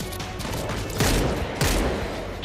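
A mounted turret fires in the zombie shooter World War Z: Aftermath, a continuous rattle of gunfire on hard difficulty with two heavier bursts standing out near the middle and toward the end.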